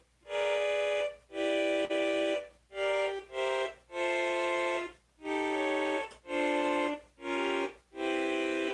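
A polyphonic synthesizer plays a chord progression of sustained, bright chords in evenly spaced stabs, each held about half a second to a second with short gaps, moderately quiet and with no voices.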